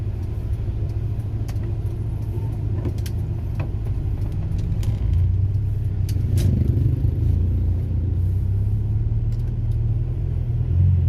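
A car creeps through a slow traffic jam, with steady low engine and road rumble up close and occasional light clatters and knocks from the suspension, with no talking.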